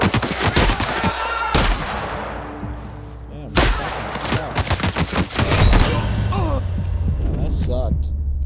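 Shotgun blasts in a role-playing video game, several sharp booming shots spaced irregularly, with game music and effects droning beneath.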